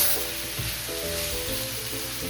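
Mustard seeds and spices sizzling in hot oil in a home kitchen, a continuous close crackle and hiss with a few faint tonal sounds underneath.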